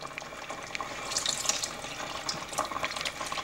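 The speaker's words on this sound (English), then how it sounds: "So I'm going to add a little bit more broth to it." Warm broth poured into a pot of thick carrot-ginger soup, a steady, soft liquid splash and trickle running without a break, close and moderately quiet.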